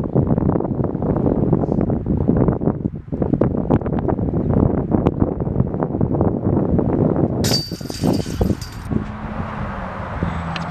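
Wind gusts across an open disc golf course in Oklahoma, buffeting the microphone with a continuous rough rumble, joined briefly near the end by a sharp metallic ringing.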